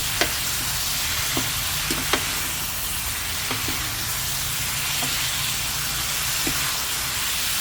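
Crispy fried catfish stir-fried in a pan with chilli and long beans, making a continuous loud sizzle and hiss broken by a handful of sharp spatula scrapes and taps.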